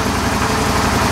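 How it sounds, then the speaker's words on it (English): A Suzuki DL650 V-Strom motorcycle engine idles with a steady, throbbing low rumble, loud and close, during an oil change. "after we have waited with the engine running for about 2 or 3 minutes"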